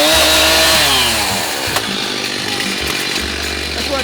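A chainsaw with a new blade cuts into a swamp cabbage palm tree, roaring loud and close. The engine note dips and surges as the chain bites through the trunk.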